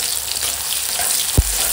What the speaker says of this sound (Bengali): ওই মাছ ভাজার তেলে দিয়ে দেবো পেঁয়াজ কুচি, কাঁচা লঙ্কা কুচি দিয়ে একসঙ্গে ভালো করে ভেজে নেব।